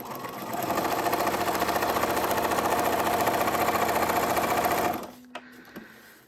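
A sewing machine runs a regular zigzag stitch on paper, a loud, fast, steady mechanical chatter lasting about five seconds before stopping abruptly, followed by a few soft clicks.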